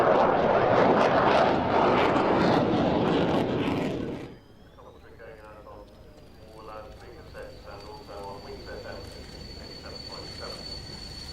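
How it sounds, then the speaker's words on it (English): A Belgian Air Force F-16 display jet roars loudly and harshly for several seconds, then drops away to a distant, thin whine. Voices are heard beneath the fading engine. "it was the Belgian F-16 display"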